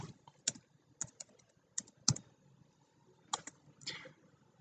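Someone types a short command on a computer keyboard in Windows 10 PowerShell, a few sparse, crisp key clicks and taps at close range in a quiet room.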